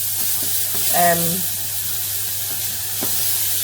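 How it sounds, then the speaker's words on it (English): Bacon and onions fry in a pan with a steady, even sizzle, while a brief scrape of stirring sounds near the middle. "You just want to keep on stirring that and cook your onions and your bacon."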